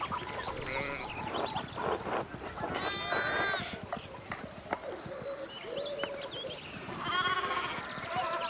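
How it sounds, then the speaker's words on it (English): Sheep bleat in the video game Pentiment, several wavering calls rising over a busy farmyard background with birds, while voices talk at moments. "one of the fence rails fell and the sheep started hopping it"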